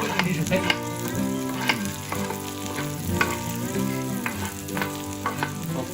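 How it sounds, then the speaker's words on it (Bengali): Garlic and onion sauté in a pan for a shrimp recipe, a continuous close sizzle with regular stirring knocks against the pan, heard over a faint steady hum. "তো এর মধ্যে আমি রসুন আর পেঁয়াজগুলো দিয়ে দিব এবং সতে করে নিব।"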